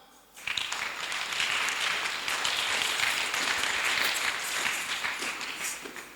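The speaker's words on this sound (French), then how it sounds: "On acclame." A congregation at a Sunday school service breaks into warm, sustained applause that starts suddenly and stays full and even for several seconds before easing slightly.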